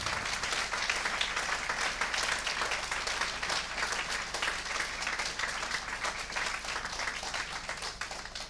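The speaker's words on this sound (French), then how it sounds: "Vous pouvez applaudir Benoît." An audience at a Failcon Grenoble talk applauds speaker Benoît Laval, sustained dense clapping from many hands at moderate distance, holding steady for several seconds.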